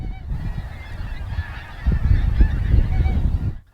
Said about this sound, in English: As the light grows in the eastern sky, the geese lift and begin to fly inland.